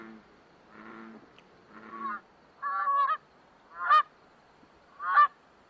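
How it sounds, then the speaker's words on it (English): Canada geese on a spring pond give a series of about five honks, the first ones lower and softer, the later ones sharper and louder, spaced roughly a second apart with quiet in between. "Canada geese flock to the pond in early spring, grazing in the shallow water for aquatic plants"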